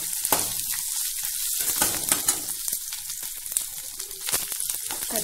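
Dried red chillies and garlic fry in a pan, giving a continuous crackling sizzle with small pops and occasional stirring scrapes, fairly close and with no talk.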